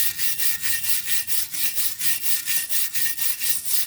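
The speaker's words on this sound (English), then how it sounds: "Follow up with the wire brush." A wire brush scrubs back and forth over rusty galvanized metal on a boat trailer, making a steady, harsh scratching in quick regular strokes, close and continuous, with no voices.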